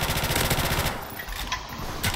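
Rapid automatic gunfire from Call of Duty Modern Warfare Remastered during a gun game match, loud and continuous for the first second, then thinning into scattered shots and a final burst.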